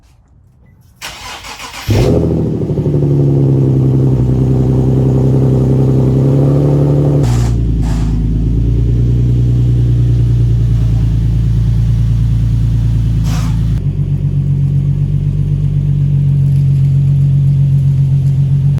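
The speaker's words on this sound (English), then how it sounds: "I'm gonna go ahead and turn the car around just so we have access to the trunk area from this side." A Nissan 370Z fires up and settles into a loud, close, steady engine rumble, shifting pitch slightly as it is driven and turned around at low speed.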